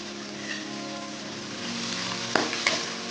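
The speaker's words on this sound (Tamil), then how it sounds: "நல்லா வதக்கி விட்டுக்கலாம்." Grated ginger sautéing in a pan for upma, a soft continuous sizzle with a couple of brief clinks of stirring near the end, close and alone.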